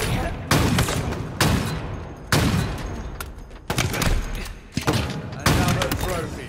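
Halo Infinite gunfire comes in heavy, booming bursts roughly every second, each shot thumping hard then decaying. Talk runs between the shots.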